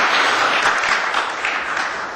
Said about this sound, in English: I'd like to ask if people can withhold their applause